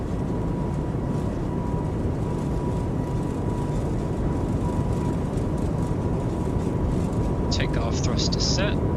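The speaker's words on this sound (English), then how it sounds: "Takeoff thrust is set." Jet engines of an airBaltic A220-300 at takeoff thrust in MSFS 2024: a loud, steady broadband roar with a faint constant whine, continuous throughout, joined near the end by short chirping cockpit sounds.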